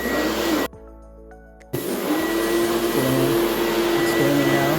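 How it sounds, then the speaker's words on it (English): A Rainbow vacuum cleaner with an Aquamate attachment roars loudly and steadily on carpet, cuts out briefly for about a second, then starts up again at full strength. "This is a powerful vacuum."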